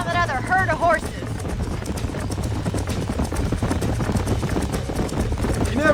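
Horses galloping in the Red Dead Redemption video game, a steady clip-clop of hooves running continuously under game music, with a brief whinny near the start.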